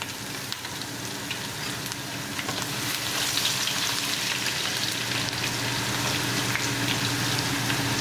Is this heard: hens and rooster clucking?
no